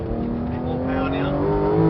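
Porsche 911 GT3 RS engine pulling harder under acceleration from inside the cabin, a steady rising drone that grows slightly louder, with people talking over it.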